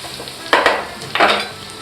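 Garlic frying in a pan for drunken mussels, two short bursts of sizzle as it is stirred over a quiet background, close and fairly loud.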